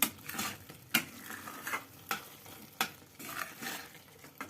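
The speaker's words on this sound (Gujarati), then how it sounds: "સારી રીતે બધું મિક્સ કરી લેશું" A spoon stirs bottle gourd halwa with dry fruits in a pan, giving a series of distinct scraping strokes at a steady rhythm, close and clear with no talking.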